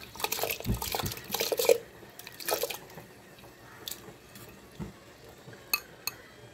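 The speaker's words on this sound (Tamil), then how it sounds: "தண்ணி நல்லா காஞ்சிடுச்சு இப்போ நம்ம அரிசி போட்டுக்கலாம் பச்சரிசி போட்டுக்கலாம்" Raw rice is poured into a pot of boiling water and milk for sweet pongal. A few short rustling bursts are followed by scattered quiet drips, small splashes and faint pot clinks, with no talking.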